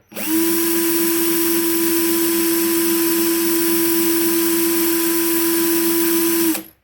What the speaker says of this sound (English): now I'm going to sand the coil down. So I'm using the coarser grade stuff first.